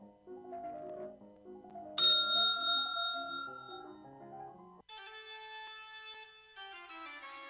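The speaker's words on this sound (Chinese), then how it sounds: "铃声开始" An electronic bell signal for a timed food inspection practical exam station strikes once sharply and rings on, then gives way to sustained, bright, tonal chiming over soft background music.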